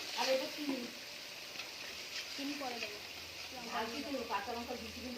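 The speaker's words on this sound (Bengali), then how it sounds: "সেই পেস্টটা দিয়ে মশলাটা ভালো করে তেলে সাঁতলে নিচ্ছি" Spice paste with a little salt frying in oil in a home kitchen, a steady low sizzle running throughout, with voices talking over it now and then.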